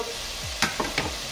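Pieces of meat in a second batch sizzle as they hit a hot pan, a short burst of frying with a few quick clatters and scrapes of a utensil.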